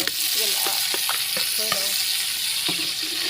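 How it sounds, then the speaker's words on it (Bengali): Tomatoes and onions fry in a pan for a Pakistani vegetable dish, giving a steady, close sizzle with a few scraping stirs of a utensil. "এখন টমেটোটা ভাজি করা হচ্ছে"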